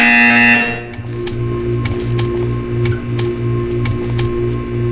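A loud electronic buzzer in the Portal 2 video game sounds in a regular pulsing pattern, repeating about once every half second over a steady hum, preceded by a brief bright tone.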